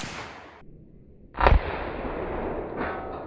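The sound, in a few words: muzzleloader rifle shot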